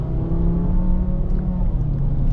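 A VW Jetta's 2.5-litre five-cylinder engine, on winter tyres in a snowy setting, holds a loud, steady rev close by, a thick rumbling drone that barely changes pitch over the short span.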